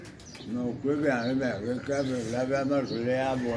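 Soft pigeon coos blend with someone talking close by, the birds murmuring steadily beneath his voice.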